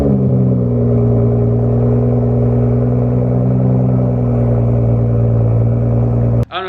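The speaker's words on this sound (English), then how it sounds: "let's go ahead and turn on the car, see how it sounds." A BMW F30 335i engine idling just after an intercooler and chargepipe install, a steady, loud, close-up low rumble with a strong hum throughout and a brief clatter and drop right at the end.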